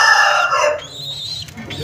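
A rooster crows loudly and close, one drawn-out call that fades over about two seconds with no other sounds around it.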